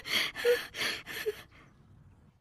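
A man loudly clearing his throat in four harsh, raspy bursts in quick succession, then quiet.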